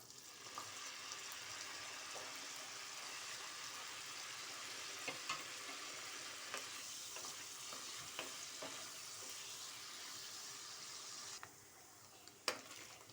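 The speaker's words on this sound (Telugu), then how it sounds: "ఇవి వేసేసి ఫ్రై చేసుకుందాం" Small cut paneer pieces fry in ghee in a pan, giving a steady, dense sizzle with light stirring scrapes throughout and a brief drop in intensity near the end.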